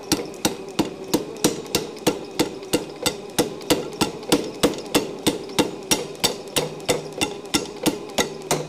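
A power hammer pounds metal in a fast, even rhythm of sharp ringing blows, roughly three per second, loud and close, with a low mechanical hum running beneath the strikes.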